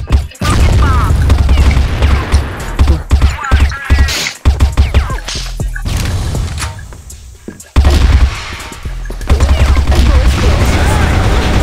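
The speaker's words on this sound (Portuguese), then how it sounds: "Granada!" A grenade goes off amid gunfire in the shooter game CrossFire, a loud barrage of booms and rapid cracking shots that fill the space, with brief pauses and a player's voice mixed in.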